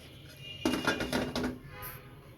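Chitoi pitha rice cakes lifted from a pan and dropped into syrup, a quick run of close metal clinks and scrapes of a utensil against the pan, with no talking.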